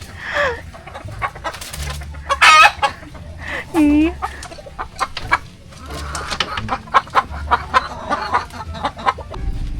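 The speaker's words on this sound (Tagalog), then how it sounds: "Si Bal tapos nang magpainom ng mga manok." Chickens cluck and squawk in short bursts, close by, with a few louder calls among scattered softer clucks and some background rustling.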